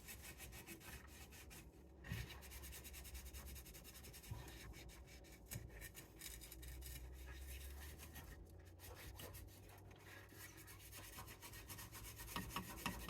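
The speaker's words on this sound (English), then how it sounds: "I am scrubbing a little bit, but it is pulling it right off." Faint, continuous scrubbing and rubbing on a stove top coated with a baking soda and peroxide paste. The strokes are steady and scratchy throughout, recorded at low level with no talking.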